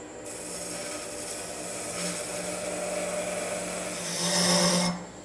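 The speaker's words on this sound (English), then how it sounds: "Here I've returned to my skew chisel to work on this little bead detail." A skew chisel cuts a small bead detail into wood spinning on a lathe, a steady scraping hiss over a faint motor hum that swells louder just before it stops abruptly.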